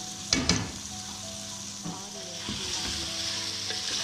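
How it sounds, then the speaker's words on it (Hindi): Chicken for Shinwari chicken biryani frying in a pot, a steady close sizzle broken by a few sharp scraping stirs near the start and soft clatters of the utensil throughout. "इसको हमने इसमें भूनना है, अच्छी तरह भूनना है इसको।"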